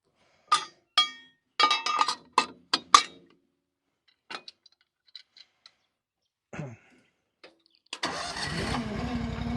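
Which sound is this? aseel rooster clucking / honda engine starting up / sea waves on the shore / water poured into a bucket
honda engine starting up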